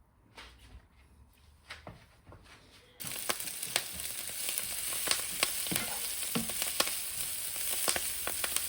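Butter, oil and garlic sizzling in a pan for tandoori chicken chow mein, quiet handling clicks first, then a sudden loud, steady close sizzle with crackling pops continuing to the end.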